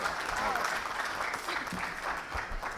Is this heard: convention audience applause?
yes